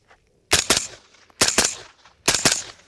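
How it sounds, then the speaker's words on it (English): A rifle fitted with a three-position super safety fired on semi-auto at targets, three loud close pairs of rapid shots about a second apart, each double crack followed by a short ringing decay, with no talking. "So I'm gonna shoot all 3 targets here. 2 taps on semi-auto."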